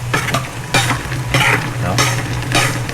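Pork simmering in Sprite in a pan, with a steady bubbling sizzle and a low hum underneath, plus periodic bursts of stirring scrapes repeating about every second or so, close and fairly loud, with no voices.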